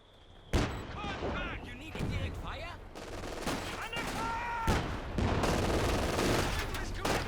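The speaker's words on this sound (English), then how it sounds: "Grenades exchanged." Gunfire and explosions crackle through a Company of Heroes 2 2v2 World War II battle as grenades are exchanged, with sharp bursts and a steady stream of shots over loud combat noise.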